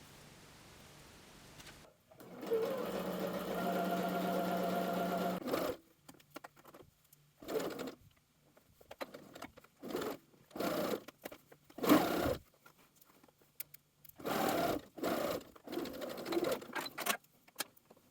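A sewing machine stitches a dress bodice seam in short bursts: one long continuous run, then a string of quick start-stop runs separated by quiet pauses, close and clear with no talking.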